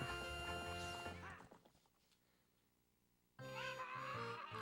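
A horse in The Legend of Zelda: Ocarina of Time neighs and clip-clops loudly over music during a horse race, drops out to near silence for a couple of seconds, then the music and sounds return abruptly.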